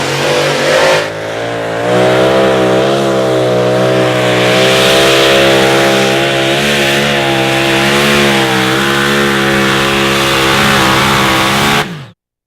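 A two-wheel-drive outlaw pulling truck roars down a dirt track at a Friday night pull in Rock Valley, a loud sustained high-revving engine howl that holds for about eleven seconds and then cuts off abruptly.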